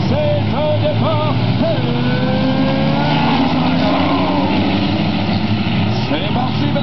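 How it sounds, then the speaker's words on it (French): Six-cylinder race cars rumble and rev together at a race start, a dense steady engine drone heard from a distance while an announcer talks over it throughout. "On fait tourner les moteurs dans 3."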